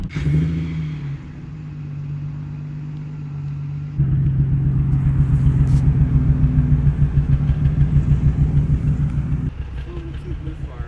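A Nissan 350Z engine idles and then revs with a rough, uneven misfire burble, a low pulsing rumble that grows louder midway before easing back, with someone speaking over it.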